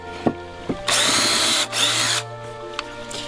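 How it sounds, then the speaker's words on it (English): A power drill bores holes into a sagging wooden piece of a flume under repair, with two loud whirring bursts between a few sharp clicks and knocks. "I'm gonna just drill a couple of holes here on both sides."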